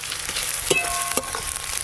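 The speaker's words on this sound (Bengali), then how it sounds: "এবার দেব পেঁয়াজ কুচি।" Chopped onion hits hot oil already seasoned with bay leaf, dried red chilli and whole garam masala, giving a steady close sizzle with a few sharp crackles and stirring clinks.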